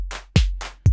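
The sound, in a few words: drum machine clap with two ratchets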